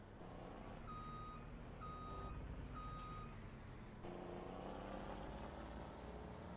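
Truck backing up in Farming Simulator 25, its reversing alarm sounding three steady evenly spaced beeps over a constant low diesel engine rumble, with the engine note shifting near the end.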